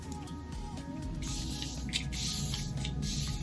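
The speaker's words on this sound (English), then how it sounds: "I'm just going to spray my face with this Glow Recipe Watermelon Glow Mist." A fine face mist spray hisses in a few short bursts, close by, with a faint background hum and no talking.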